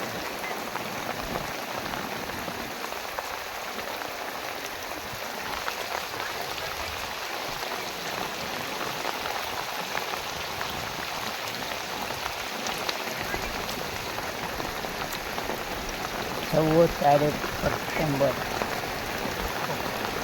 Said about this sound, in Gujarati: 3 વાગ્યાનો વરસાદ ચાલુ છે, હજી બંધ થયો નથી